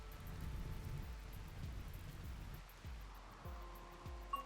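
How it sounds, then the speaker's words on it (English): Steady rain falls in the video game RimWorld, a soft continuous hiss with low rumbling swells underneath, fairly quiet and without speech. "All right, here comes the rain, which is much needed."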